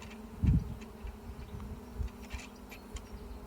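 Honey bees buzz close around a beekeeper working an open hive, with one brief louder thump near the start and soft scattered buzzing and handling noise throughout.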